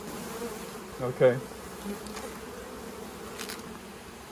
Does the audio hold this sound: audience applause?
no